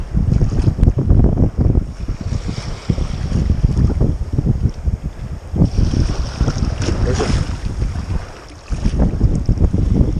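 Wind blows hard across a Yukon lake while a small boat is paddled and steered by rudder, giving a loud rumbling buffet of gusts against the microphone with water sloshing, briefly dropping near the end.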